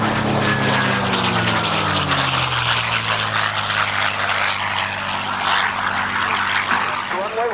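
A propeller warplane roars close overhead at a grass-field airshow, its loud drone falling in pitch as it passes, with faint voices underneath.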